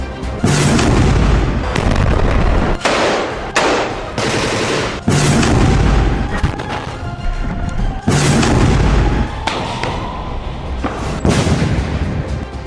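Israel–Hamas war footage of air strikes and tank bombardment: loud, close bursts of booms and rapid gunfire in repeated volleys, dense and continuous with brief gaps between blasts.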